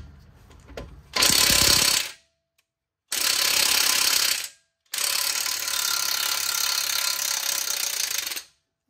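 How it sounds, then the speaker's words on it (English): A ratchet wrench working the rear strut bolt on a 2011 Lincoln MKX, heard as three loud, close bursts of fast clicking separated by short pauses, the last burst the longest. "We will attempt to take that off the backside bolt."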